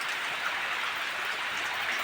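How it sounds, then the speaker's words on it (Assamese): Steady, dense hiss of rain falls in a sudden bout of bad weather, continuous and fairly loud with no voices. "বতাহো আহি আছে, বৰষুণো আহি আছে, বতৰ বেয়া একদম"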